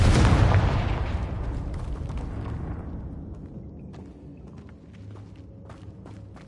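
Confringo fire-blast spell cast in Hogwarts Legacy, one loud booming explosion that fades slowly into a rumbling, crackling tail, with faint clicks and movement afterward.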